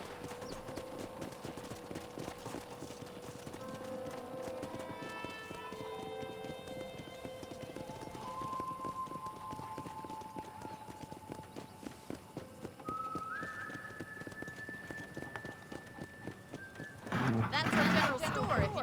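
Steady rhythmic hoofbeats of a galloping horse in Red Dead Redemption run throughout, mixed with game music tones, and a brief louder burst of noise near the end.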